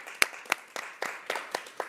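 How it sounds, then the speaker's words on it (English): Scattered, light hand clapping from a small gathering at a city council meeting, honoring a March employee of the month; sparse, uneven claps repeat for about two seconds, fairly near and modest in volume. "big round of applause for Tony."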